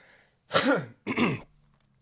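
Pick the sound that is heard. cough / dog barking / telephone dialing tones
cough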